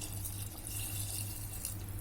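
About a glass of water poured into chicken curry cooking in a pot, a continuous soft splashing trickle, fairly quiet and steady, with no voices.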